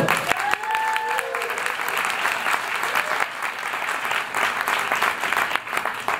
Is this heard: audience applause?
yes